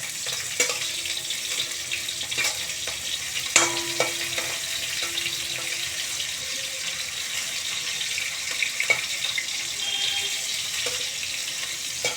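Cauliflower florets frying in a little oil for a vegetable dal, a steady close sizzle with occasional stirring clatter and soft knocks, no talking.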